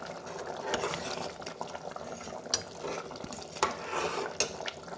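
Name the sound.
stirring soaked rice in pot for tomato rice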